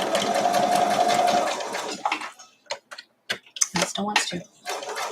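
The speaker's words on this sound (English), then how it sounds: "Make sure I'm sewing on the right side." A sewing machine stitches a quilt block seam for a Santa hat block, using a 1/4 inch foot: a steady, close whirring run for about two seconds, then a few brief bursts as a voice speaks.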